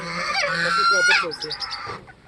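Polish chickens and chicks on a farm in Azad Kashmir, with nearby clucking and honk-like fowl calls in a short busy burst, a few quick repeated notes trailing off near the end.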